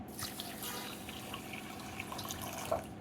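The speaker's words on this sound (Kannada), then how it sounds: "ಈಗ ನೀರು ಹಾಕ್ತಾಯಿದ್ದೀನಿ" Water pours onto a glass of sugar to make syrup for gulab jamun, a quiet trickling and splashing flow that runs on steadily.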